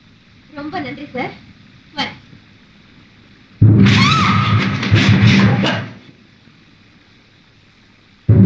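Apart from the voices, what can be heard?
thunder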